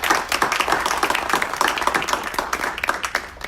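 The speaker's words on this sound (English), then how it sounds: "Please give them a round of applause for everything they do." A crowd at a November media briefing bursts into brisk applause for community organizations in Aurora, a few seconds of close, lively clapping from many hands with no talking.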